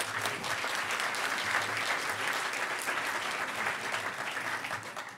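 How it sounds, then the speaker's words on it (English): Audience applause at the Hackers On Planet Earth 2012 closing ceremonies, a dense, steady wash of many hands clapping that holds loud for about five seconds before easing slightly at the end, with no talking. "So everybody, give a round of applause to Gus"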